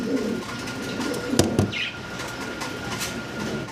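A fancy pigeon pair coos softly amid a busy pigeon house, with a few low murmuring calls, a brief flutter and scattered background chirps and clatter at moderate distance.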